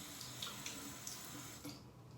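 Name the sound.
water running in sink, rinsing razor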